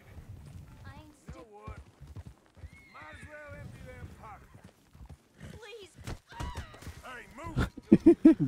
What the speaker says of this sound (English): The dumb fucking horse.